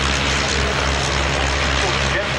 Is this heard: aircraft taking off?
yes